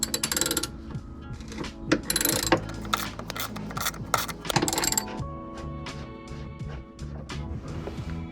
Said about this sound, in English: So I think the first step is to try to get these bolts out.